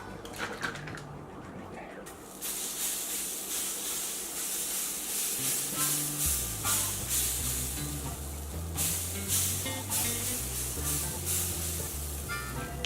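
A sustained spray of butter hisses onto a hot waffle iron, starting after a quiet moment and continuing steadily, layered with a low sizzle from the hot surface, close by.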